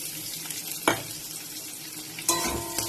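Chopped onions frying in a pan, a continuous close sizzle with two sharp spoon strikes against the pan as they are stirred.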